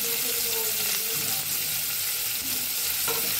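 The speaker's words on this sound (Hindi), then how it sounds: "अब लहसुन अदरक और हरी मिर्च प्याज को सबको भूनेंगे।" Finely chopped onion, garlic, ginger and green chilli fry loudly in a pan while being stirred, a dense, continuous close-up sizzle and hiss with scraping strokes for the whole stretch.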